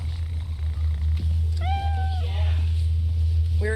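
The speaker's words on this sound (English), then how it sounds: "It's just a cat." A cat meows once clearly, a drawn-out rising cry, followed by a short second call, over a constant low hum.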